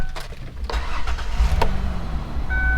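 A 2002 Ford Windstar minivan cranking and firing up, the starter whirring briefly before the engine catches and settles into a steady low idle, heard up close.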